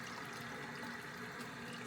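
Water steadily pouring into a measuring container to fill it to one litre, a continuous, even liquid rush close by with no talk.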